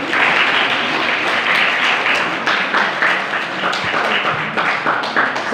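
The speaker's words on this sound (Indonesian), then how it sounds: "Aplaus, tepuk tangan untuk Mas Sony." Dense, steady applause from a crowd at an academic discussion, many hands clapping together at an even level throughout.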